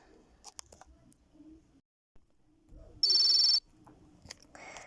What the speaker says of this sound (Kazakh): телефон шырылдап жатыр